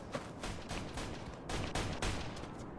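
Gunfire in the Mafia 2 game, with rapid bursts of shots cracking in clusters over a noisy, mid-level background.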